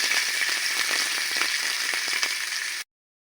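Finely chopped onion fries gently in a pan, a steady bright sizzle and crackle close up with faint stirring taps, running evenly before cutting off abruptly.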